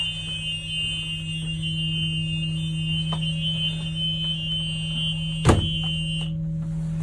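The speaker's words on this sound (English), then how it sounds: "And the light and buzzer are both activated." On a Thomas school bus, the emergency exit window buzzer drones as a steady electronic tone, with a single sharp thunk near the end before the tone cuts out.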